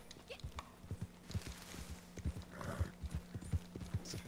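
Horse hooves in Red Dead Redemption 2, a steady clip-clop of a walking horse, soft and fairly close, with low background ambience.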